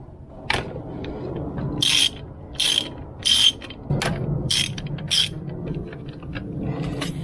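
A hand ratchet turns a T25 Torx bit on the black plastic cap's screws of a Jeep TJ, giving a string of close, crisp clicking bursts of varying length with short pauses, over a faint background hum.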